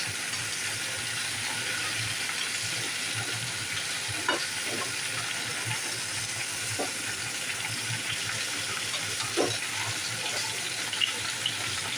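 Spices and jaggery frying for a sweet Bengali pickle give a steady, close sizzle with faint stirring scrapes, heard alone without talk.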